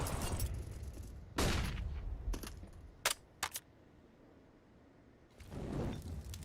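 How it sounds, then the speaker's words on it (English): Gunfight in Rainbow Six Siege during a competitive esports match: a few loud close bursts and sharp single shots separated by quieter stretches, then another sustained burst at the end. "Hez needs to win out this gunfight"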